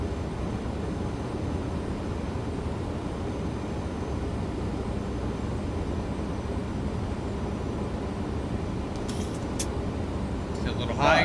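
Boeing 737 on approach in X-Plane 12 to Kansas City, a steady broadband jet and cockpit rumble holding at an even level throughout, with brief faint clicks near the end.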